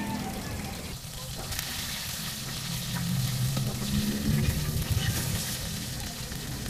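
Meat or fish for a meal fries in a pan over a wood-fired stove, with a loud, steady sizzle and crackle running the whole time and a low rumbling undertone.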